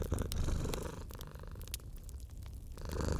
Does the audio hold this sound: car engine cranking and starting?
no